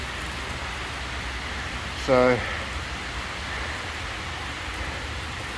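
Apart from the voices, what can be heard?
heavy rain pouring down during a storm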